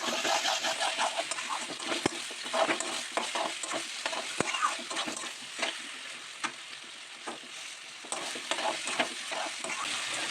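Elephant foot yam stems frying in a pan with tamarind pulp and no water, a steady close sizzle broken by the scrape and clatter of stirring, with no talking.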